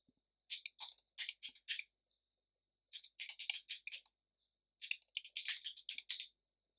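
Someone types a password on a computer keyboard in three quick bursts of crisp, close key clicks, separated by short pauses in otherwise quiet surroundings.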